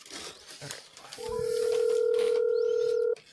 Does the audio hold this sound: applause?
no